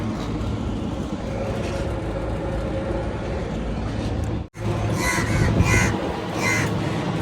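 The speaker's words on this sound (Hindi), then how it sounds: "कौवे भी आ गए हैं, इनको भी भूख लगी है।" Crows caw several times at close range over steady traffic rumble, the calls clustering after a brief cut in the sound.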